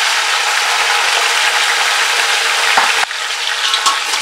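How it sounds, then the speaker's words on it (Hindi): Mutton sizzling and frying in ghee over a high flame, a steady dense crackle with brief clattering stirs, close and loud with no voices. "मटन को हाई फ्लेम पे तकरीबन 2 से 3 मिनट के लिए अच्छी तरह से भून लेंगे।"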